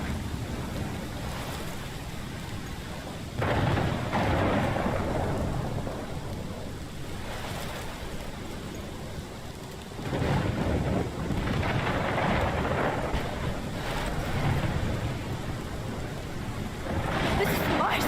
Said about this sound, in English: This is my storm. I caused this.